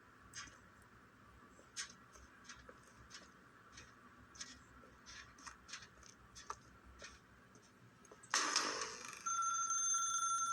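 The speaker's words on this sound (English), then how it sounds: "Now pick up the phone" A telephone bell in The Stanley Parable Ultra Deluxe video game bursts into loud, sustained ringing near the end, after a stretch of soft, steady ticking and faint clicks.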